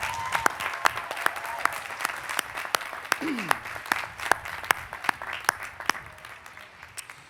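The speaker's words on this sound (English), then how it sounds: "If I could get a round of applause for our faculty who are to my left and to my right" Applause for faculty members at a university bachelor's degree commencement ceremony rises from a large audience, a steady wash of clapping with distinct nearby claps popping out, and a brief voice breaks in partway through.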